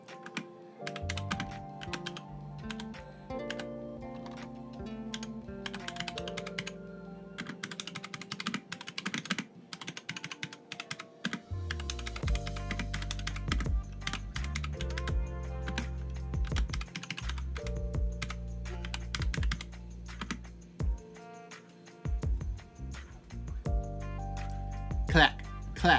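Rapid clicking on a computer keyboard runs in irregular bursts throughout, set against background music with sustained tones.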